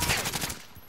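Rapid automatic gunfire in the video game Call of Duty: Warzone, a loud, dense burst of shots lasting under a second and fading toward the end.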